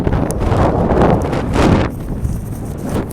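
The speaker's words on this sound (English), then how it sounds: "It's like crazy windy out here." Strong wind buffeting a microphone outdoors, a loud continuous roar of gusts that swells and then eases slightly, with no talking heard.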